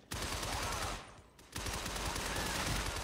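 Rapid, continuous gunfire in the video game Shadow Complex, loud and close, breaking off briefly before resuming.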